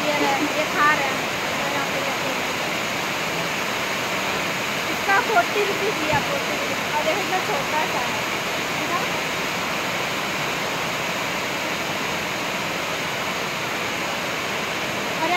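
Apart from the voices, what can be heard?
heavy rain falling at a railway station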